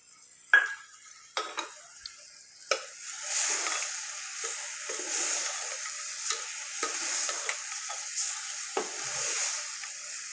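Tomatoes go into a pan of dudhi chana curry, with steady sizzling frying and several sharp spoon clinks and stirring scrapes against the pan, close and moderately quiet.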